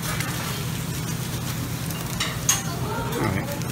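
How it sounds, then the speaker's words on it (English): Chopsticks stir wasabi into a small dish of soy sauce, with soft scraping and light clicks against the dish over a steady low hum, and one sharper tap near the middle. "I put the wasabi and mix it in the soy sauce."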